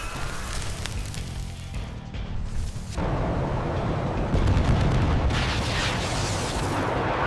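A heavy, rumbling explosion erupts and sustains into a loud, dense roar of debris and noise.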